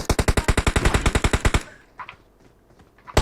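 Rapid automatic fire from a SCAR-L rifle in PUBG Mobile, a loud close burst of about twenty shots in an even rhythm, then quiet game ambience before another shot starts.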